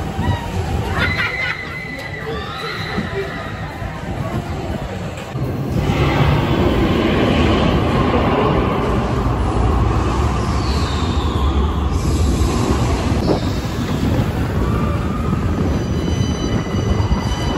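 The Dragon roller coaster at La Ronde park rides along with a continuous rattling rumble that grows louder and denser after a few seconds, with faint voices in the mix.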